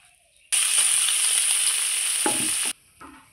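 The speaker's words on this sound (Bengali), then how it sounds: "আমি এক এক করে সব মাছটাই ভেজে নেব" River fish frying in hot oil in a wok: a loud, dense sizzle bursts in abruptly, holds for about two seconds and cuts off sharply, with quiet background before and after.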